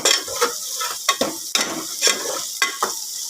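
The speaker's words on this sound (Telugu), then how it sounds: "ఇదిగోండి ఇట్లా ఫ్రై అయిపోవాలి ఒక నిమిషం ఫ్రై అయినాక ఇవ్వండి" Stirring in a frying pan with ginger and other ingredients produces a sizzling hiss broken by several sharp scraping strokes of a spoon, close and fairly loud, with no speech.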